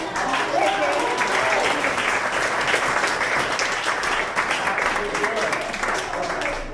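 Dinner guests at a women's dinner clapping, a full, steady crowd applause that fills the room loudly throughout with a faint voice underneath.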